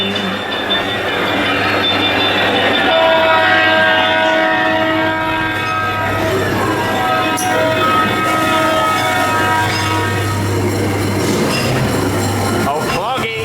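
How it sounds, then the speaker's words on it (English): A ghost train ride car at Blackpool Pleasure Beach rolls along its amusement park track with squealing wheels, steady rumble and a tonal horn-like sound, loud and close throughout. "There's a train approaching."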